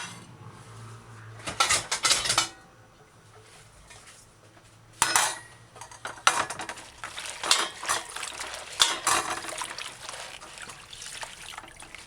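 Callaloo (amaranth) leaves are rinsed in water for a Jamaican dish, with bursts of running, splashing water mixed with clinks of a pot or bowl between quieter pauses.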